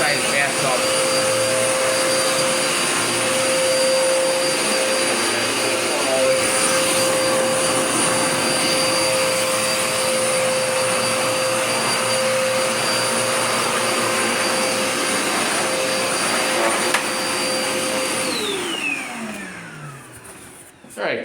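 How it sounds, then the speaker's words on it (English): A Dirt Devil Power Max pet vacuum cleaner runs in a bathroom with a loud steady whine and motor roar, then winds down near the end. "I gotta vacuum in the bathroom right fast or I forget."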